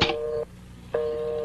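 A telephone in a classic Dolphy movie sounds two steady electronic tones of equal length, split by a short silence, clear and close with no talk over them.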